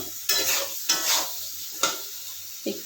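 Something is fried in a pan for an ash gourd and hilsa curry, with a soft sizzle punctuated by three or four distinct stirring scrapes in a brief burst.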